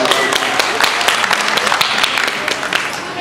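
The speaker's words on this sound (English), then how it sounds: "Give him another round of applause." Audience applause at a community grief awareness event, a room full of people clapping steadily with some voices mixed in beneath the clapping.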